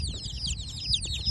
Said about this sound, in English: Nobody ordered chickens.